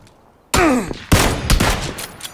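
Gunfire in PlayerUnknown's Battlegrounds, where an SKS rifle is in use: three loud, close shots with echoing tails, about half a second apart, following a quiet lead-in.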